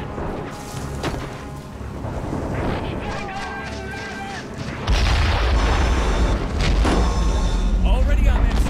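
Gunfire and heavy booming blasts in the war strategy game Men of War: Assault Squad 2, with repeated loud reports that grow into a rumbling barrage while voices shout over them.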